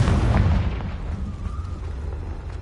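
A Confringo fire spell explodes in Hogwarts Legacy: a loud, deep blast at once, then a rumbling boom that slowly fades over a couple of seconds, with no voices.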